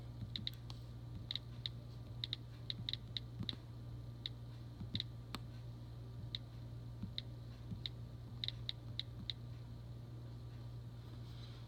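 Someone types on a new laptop keyboard, producing faint, light key clicks in irregular bursts over a steady low electrical hum.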